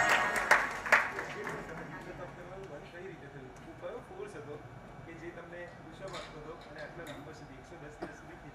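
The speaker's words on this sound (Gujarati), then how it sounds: "એકવાર તાળીઓથી એના સત્વને આપણે વધાવીએ" A seated audience at an Updhyan Tap religious gathering in Mumbai gives a short round of clapping that fades quickly, leaving a murmuring room with speech and occasional scattered claps.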